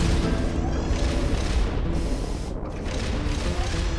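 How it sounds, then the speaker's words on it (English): S-mines launch in the game Metal Gear Solid: Peace Walker with a dense, loud, continuous rumbling boom that fills the whole stretch with little variation. "Launching S-mines."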